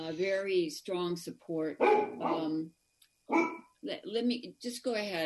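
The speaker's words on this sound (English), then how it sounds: "sorry about the dogs" Dogs bark in the background at a home during a virtual county board of supervisors meeting, partly masked by a person speaking continuously over them.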